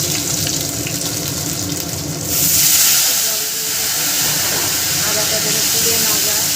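Ginger paste dropped into hot oil, a loud hiss that swells partway through and settles into a steady sizzle, with a voice speaking faintly over it.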